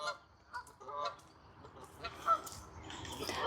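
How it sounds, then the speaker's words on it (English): Geese honk in a botanical garden in Germany, with scattered, fairly faint calls at moderate distance over quiet outdoor background. "The geese."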